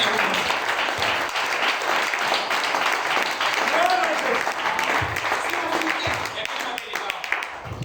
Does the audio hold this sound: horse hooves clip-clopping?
no